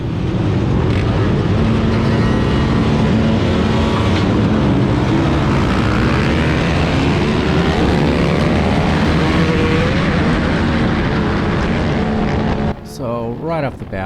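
Several motocross bikes rev hard together at the start of a World Vet race, a loud, dense engine roar that holds steady close by for the whole stretch and cuts abruptly near the end.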